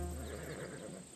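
A horse whinnies in Assassin's Creed Odyssey, a single loud, close neigh over low game ambience.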